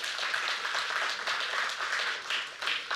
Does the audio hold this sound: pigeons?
no